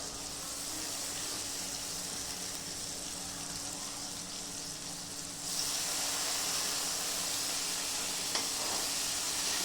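Soaked moong dal hits hot oil in a pan and sizzles steadily, growing louder partway through, with a brief clink near the end; no one speaks.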